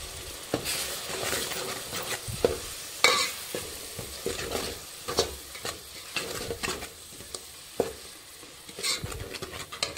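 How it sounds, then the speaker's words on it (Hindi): Ground coconut is stirred into lightly browned onions frying in a pan, with a soft steady sizzle under repeated scraping and clattering strokes of a spoon against the pot, close and moderately loud, no voices. "चलिए हम इसमें मिक्स करते हैं हमारा ये पीसा हुआ नारियल"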